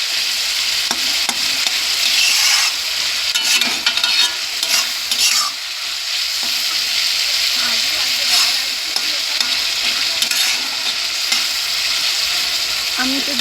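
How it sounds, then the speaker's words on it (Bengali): Tomatoes fry in a pan before peas go in, a constant bright sizzle broken by repeated scraping and stirring strokes, close and fairly loud with no talking. "এটাকে ভালো করে ভাজা হয়ে যাবে, টমেটোটা একটু গলে গেলে তারপরে আমি মটরটা দিয়ে দেবো।"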